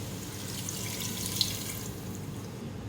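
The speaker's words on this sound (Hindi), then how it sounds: "1 कप पानी डालूंगी इसमें" A cup of water poured into beef pieces with dissolved garlic paste for masala boti, giving a steady splashing flow that runs evenly for about three seconds.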